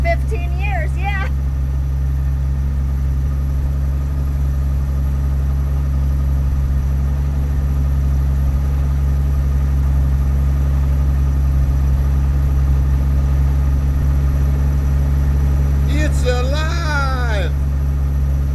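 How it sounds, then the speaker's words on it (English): A car engine idling after sitting unused for fifteen years, a steady loud low rumble that holds throughout, with brief higher squeaks or whistles near the start and again toward the end. "I think this counts as an idle."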